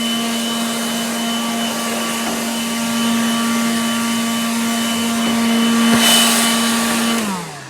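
Blow dryer drying a cleaned car part during a VQ engine swap on a 240SX, a loud steady whining hum that holds for several seconds, swells slightly, then winds down at the end.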